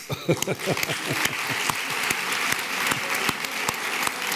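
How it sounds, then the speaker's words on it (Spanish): Audience applause for Carlos Socas at a CajaCanarias Otoño Cultural literary evening, a steady indoor clapping with a few sharp individual claps near the start, holding an even level throughout with a faint trace of voices beneath. "Vamos a darle un aplauso a Carlos Socas."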